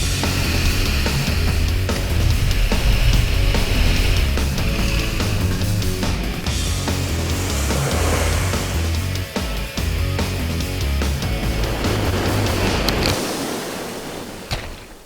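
Mercury Pro XS 115 horsepower outboard engine on a fishing boat during a pike tournament, a loud, close roar with wind and water rush that holds steady throughout and drops away in the last couple of seconds.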